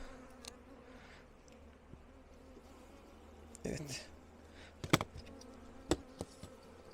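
Honey bees buzz softly around an opened hive during a first inspection after winter, a faint steady hum with a few sharper knocks and handling noises; a voice speaks briefly.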